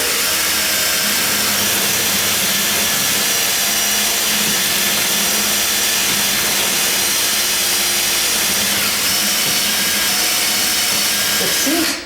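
A Bosch cordless power tool works the edge of a door for a strike plate, a loud, steady grinding whine that runs without a break and stops abruptly at the end.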